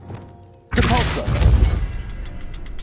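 A Depulso spell in Hogwarts Legacy fires with a sudden heavy thud and crashing burst after a quiet lead-in, then rumbles and clatters on for a couple of seconds.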